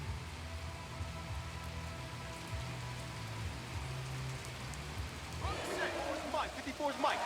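Steady rain pours down during an American football game, a continuous hiss of drops on surfaces under a commentator's voice, with crowd and field noise rising near the end.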